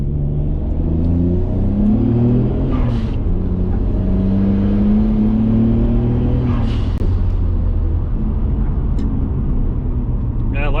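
A 500-horsepower Nissan Skyline GTR engine drones at low revs while cruising uphill in a high gear on a street drive, a loud, steady cabin rumble with gently rising and falling pitch, and a driver talking over it.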